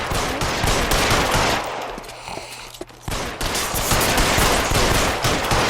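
Dense video-game gunfire from L.A. Noire, a rattling fusillade of rapid shots that fills the scene, pauses briefly for about a second, then resumes just as loud.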